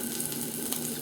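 Scallops sear in a hot pan with a dense, even sizzle that stays steady from start to finish, close and unbroken.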